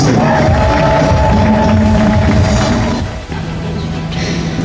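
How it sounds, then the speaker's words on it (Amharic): A church congregation at a deliverance service claps and cheers for God's glory, a loud, dense wall of crowd noise with shouts and whoops that dips briefly near the end, then swells again. "እስቲ ለእግዚአብሔር ክብር አጨብጭቡ።"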